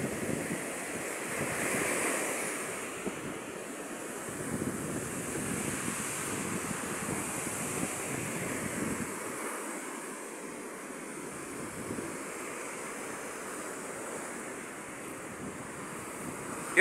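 Rough sea waves wash onto the shore in steady surges, with gusting wind buffeting the microphone throughout and no voices.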